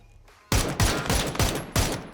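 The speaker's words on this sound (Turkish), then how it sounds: "El bombasını yedi." A grenade blast in the battle royale game PUBG, heard as a string of five loud, sharp bursts in close succession, each hitting hard and ringing briefly, after a quieter lead-in.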